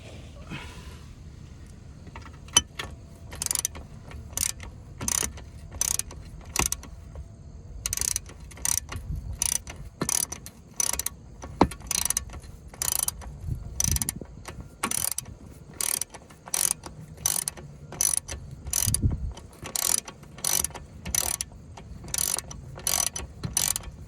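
A ratchet wrench loosens a bolt in the driver's-side inner wheel well of a 2008–2012 Ford Escape, producing fast, steady runs of sharp clicking bursts close to the microphone, separated by short pauses, with no talking.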